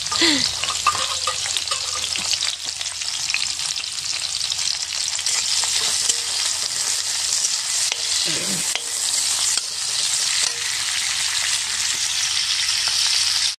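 Food drops into hot oil and fries hard, a loud continuous close-up sizzle and crackle that holds steady throughout, with a couple of brief knocks and no speech.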